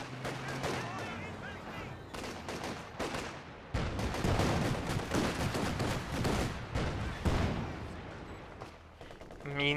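MG34 machine gun bursts in Company of Heroes 2, a dense, continuous wartime battle din of rapid rattling fire and booming impacts that runs through the whole stretch, with someone commentator talking over it.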